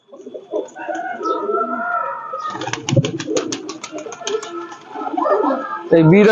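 Pakistani pigeons in a loft coo in low, rolling calls, with a burst of wing flapping near the middle; someone talks over them throughout.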